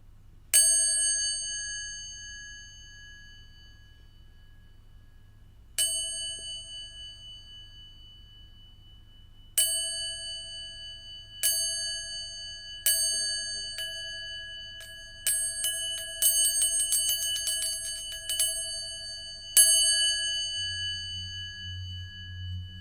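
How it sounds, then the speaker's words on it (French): A meditation bell rings clearly in a quiet room, a bright sustained tone struck repeatedly at irregular intervals, each strike ringing out and fading, with a quick cluster of lighter strikes near the end. "je vais à présent inviter la cloche à sonner."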